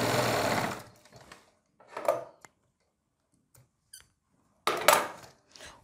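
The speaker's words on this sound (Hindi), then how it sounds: "सेंटर से सेंटर को इस तरीके से मिला के सिलाई लगा लें" Sewing machine stitching a boat neckline, heard in a few short separate bursts of close mechanical whirring broken by quiet gaps.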